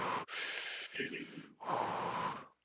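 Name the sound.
voice imitating Darth Vader breathing through a gas mask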